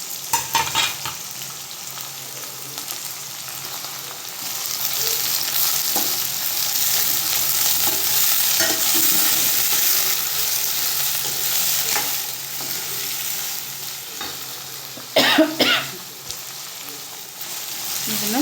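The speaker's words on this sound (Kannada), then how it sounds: "ಇದನ್ನು ಚೆನ್ನಾಗಿ ಫ್ರೈ ಮಾಡ್ಕೋಬೇಕ್ರಿ." Onions, green chillies and curry leaves sizzle steadily in hot oil in a pan, with a continuous frying hiss, occasional stirring scrapes and a few louder clatters of a spoon against the pan.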